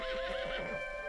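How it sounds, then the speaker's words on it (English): A horse neighs in the video game Red Dead Redemption II, a single clear, close whinny with a wavering pitch. "Let's hitch the horse."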